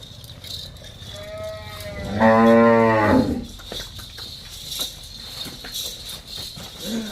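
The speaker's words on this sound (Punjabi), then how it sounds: "ਇਹ ਆ ਵੀ ਸੋਹਣੀ ਵੈੜ ਆ" A single long, loud moo from a dairy cow nearby on a Punjab farm, lasting about a second, surrounded by quieter farmyard background noise.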